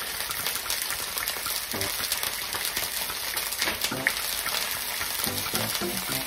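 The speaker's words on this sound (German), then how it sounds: "Die Sepia erst einmal schön in Olivenöl anbraten." Pieces of cuttlefish for paella sizzle and crackle steadily in hot olive oil in a pan, with a few soft clinks of a utensil.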